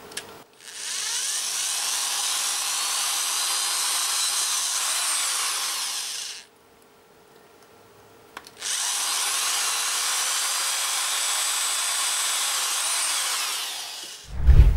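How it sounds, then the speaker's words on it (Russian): A small drill bores two 3 mm holes through a piece of perfboard, giving two long, steady high-pitched whines of about six seconds each with a brief pause between, close and alone. "Для обеспечения возможности ее фиксации сверлю два отверстия диаметром 3"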